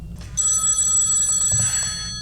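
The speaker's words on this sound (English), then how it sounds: "Ringing the police department." A telephone rings as a call goes through to the police department in a school stage drama, a single sustained bright bell trill that fades at the end, with no one speaking.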